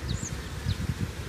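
A steady low buzz of bees at an apiary hums close by, droning continuously with slight swells, with a few faint high chirps above.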